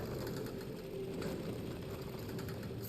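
A sewing-machine-like Nevron creature in Clair Obscur: Expedition 33 sews tirelessly with a steady, mechanical whirring hum and fast repetitive clatter, constant throughout.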